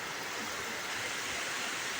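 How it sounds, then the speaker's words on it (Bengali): Heavy rain pours down in a steady, even wash of hiss, close and unbroken for the whole short stretch, with no voices. "আমাদের এখানে তো প্রচুর বৃষ্টি হচ্ছে।"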